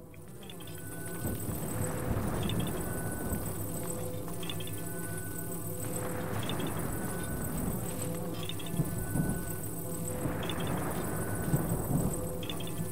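Thunder rumbling through a lightning storm in the video game The Legend of Zelda: Breath of the Wild, with low rolling booms swelling several times over a constant rain-like wash and a steady musical drone.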